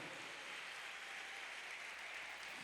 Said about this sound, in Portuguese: dê um aplauso bem forte então de gratidão.